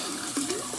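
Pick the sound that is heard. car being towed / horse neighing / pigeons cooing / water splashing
water splashing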